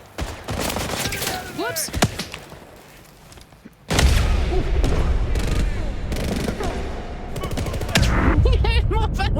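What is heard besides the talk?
gunfire in video game First Light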